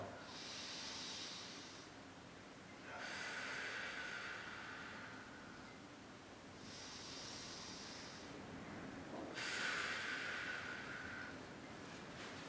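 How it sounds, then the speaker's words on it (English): Slow, deep breaths drawn in and pushed out, each a long airy hiss lasting a few seconds, repeating in a steady rhythm, quiet and close. "So I inhale and exhale."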